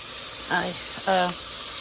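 Steady hissing sizzle of beans cooking in butter in a pan, with a person speaking briefly over it.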